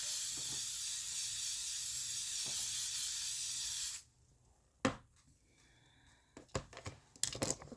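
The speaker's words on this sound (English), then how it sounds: "so now I'm gonna spray the look." A setting spray is misted over a finished makeup eye look in one long, steady hiss of about four seconds, close and loud, followed by faint handling clicks and rustles.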